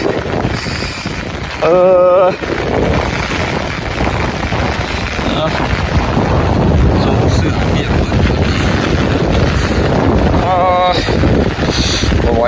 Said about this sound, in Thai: คือแบบลมพายุเลย